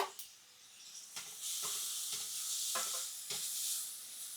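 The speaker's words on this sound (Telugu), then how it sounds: "క్యాప్సికమ్ అండి పచ్చిమిర్చి కూడా వేసేసుకోవాలి ఇవన్నీ బాగాన వేగాలండి" Capsicum, green chilies, cabbage and carrot frying in a pan, a soft hissing sizzle broken by repeated scraping stirs at a fairly even pace, quiet and close.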